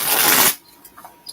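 A single quick riffle of playing cards, a dense papery flutter lasting about half a second, followed by a few faint soft clicks in near silence.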